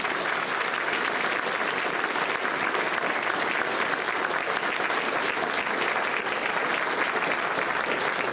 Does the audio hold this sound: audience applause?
yes